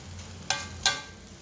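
Okra being stirred in a pan with chili powder and gram flour: two short scraping swishes of a spoon against the pan, each fading quickly, over a faint steady background and no voices.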